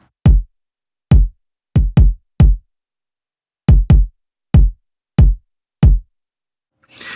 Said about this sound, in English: So I have two kicks that I used.